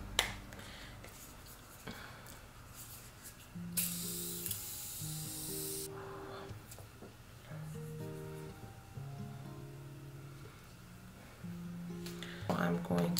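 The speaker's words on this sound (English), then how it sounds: "the Morphe Continuous Setting Spray to spray my face" Morphe Continuous Setting Spray bursts out onto a face in one long hissing pump and a shorter one near the end, with low music or hum in between.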